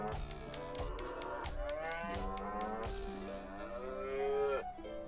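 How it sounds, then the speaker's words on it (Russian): Cows moo repeatedly in South Park: The Stick of Truth, long drawn-out lowing calls overlapping one another, close and fairly loud, with cowbell-like clanks and thuds from game actions underneath. "Не толкать и не бить коров."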